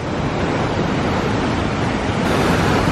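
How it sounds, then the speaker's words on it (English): Jackson River Falls, a waterfall, roars as a loud, steady broadband rush of falling water close by, unbroken for the whole stretch with no voices. "And this is Jackson River Falls."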